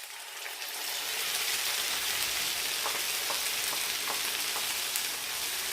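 Curry sauce hitting a hot pan with a sudden rise into loud, steady sizzling and crackling frying, close up with a few faint stirring clicks.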